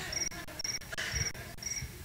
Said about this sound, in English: Don't let the crickets stop you.